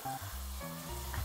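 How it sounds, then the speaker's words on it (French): Meat nems deep-frying in a bath of hot oil, giving a steady close sizzle and crackle with low bubbling underneath, no voices. "L'huile est bien chaude, tu vas tremper les nems dedans délicatement."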